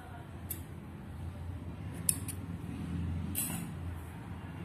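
Scissors cutting woolen yarn after a crochet slip stitch, a few short crisp snips spaced across a few seconds over a low background hum.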